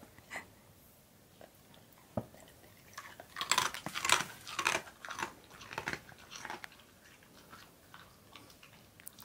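A husky crunches a treat up close, a run of irregular sharp biting and chewing crunches, loudest in the middle, with quiet gaps before and after.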